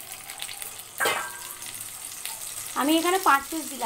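Whole potato pieces dropped into hot oil in a wok, sizzling and crackling steadily at close range while someone talks over the frying.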